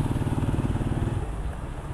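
Honda Titan 160 motorcycle engine idling up close with a steady low rumble and regular pulsing beat, easing slightly toward the end.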